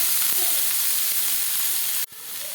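Fenugreek leaves drop into garlic frying in hot oil, giving a steady, close sizzle with a few soft stirring scrapes, then a sudden brief dip in loudness near the end before the sizzle resumes.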